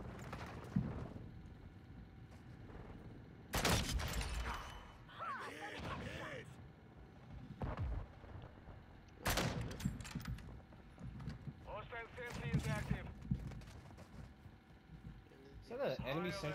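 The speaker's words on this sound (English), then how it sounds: "Enemy sentry gun?" An enemy sentry gun firing in Call of Duty, short bursts of sharp gunshots at intervals amid game noise, with someone talking over much of it.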